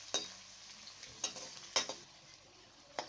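Onion frying in melted ghee over a medium flame for keema pulao, a quiet steady sizzle broken by several sharp stirring knocks of a spoon against the pan.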